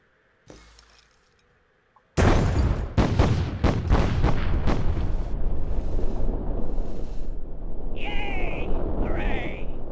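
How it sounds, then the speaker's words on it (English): Satchel charges detonate in the game Myth: The Fallen Lords, a loud sustained blast with a rapid burst of cracking explosions at the start, then a long rumbling roar, with faint high synthetic tones near the end. "And then it'll blow up in one nice explosion."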